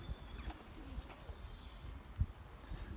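Belgian racing pigeons back from a short three-kilometre toss coo softly and faintly in a loft, with a single dull knock partway through.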